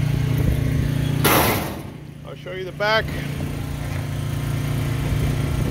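The small gas engine of a 1979 Gilson concrete mixer, rope-started with a chain and sprocket driving the drum, idles with a steady low rumble while someone speaks briefly over it.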